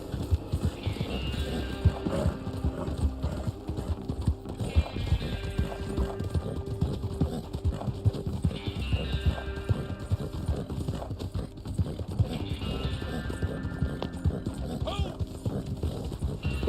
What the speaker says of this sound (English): I'm glad I didn't fall off the horse there.